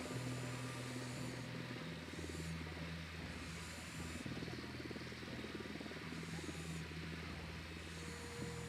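In Ghost Recon: Wildlands, a helicopter drones steadily overhead with a rhythmic rotor thump and a hissy engine hum that holds for nearly nine seconds at moderate distance, with no talk over it.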